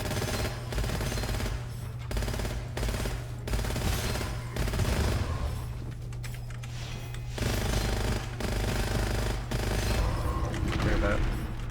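Rapid automatic gunfire in the first-person shooter Gunfire Reborn, loud sustained bursts broken by short pauses, with a low droning hum and game effects underneath.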